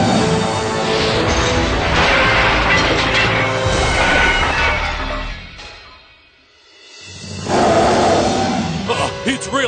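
A cartoon dinosaur lets out a loud, rough roar that fills the space, breaks off into a brief lull, then roars again with crashing noise around it.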